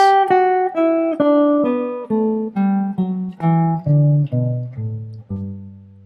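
A guitar plucks a descending hexatonic scale of about a dozen clean single notes, evenly paced and close, each ringing briefly before the next.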